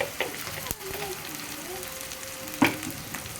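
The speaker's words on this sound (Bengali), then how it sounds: "এখন আমি মশলাটা কষাইয়া তারপরে তরকারিটা দিয়ে দেবো" Ginger, garlic and cumin paste fries in a pan for a hilsa and sweet pumpkin curry, giving a steady soft sizzle with occasional clinks from stirring, close and moderately quiet.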